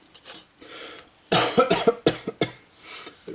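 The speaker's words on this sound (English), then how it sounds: "It really hurts to bloody cough" A man working on a 1/32 Revell F-14A model kit coughs, still sore from a large stomach scar. A burst of several harsh, close coughs comes in quick succession after a few quieter breaths.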